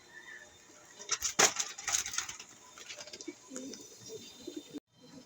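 Pigeons in a loft, a few short coos and wing flutters standing out around the middle against low rustling background, fairly close, with no talk.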